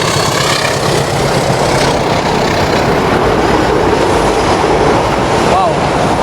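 A train rumbles past nearby with a loud, continuous roar and rhythmic rattling of wheels on track, steady throughout.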